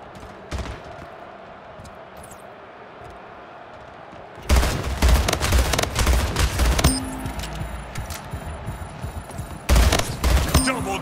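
Gunfire in the SplitGate video game: dense bursts of rapid shots erupt after a quieter stretch, loud and sustained, with a second burst near the end.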